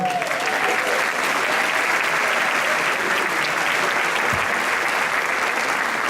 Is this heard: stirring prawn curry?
no